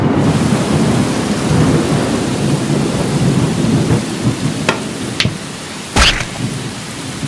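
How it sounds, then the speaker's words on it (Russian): Steady heavy rain pours down while thunder rumbles, followed by a few sharp, close cracks near the end. "Кажется, дождь собирается."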